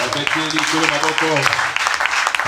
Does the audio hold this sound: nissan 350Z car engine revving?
no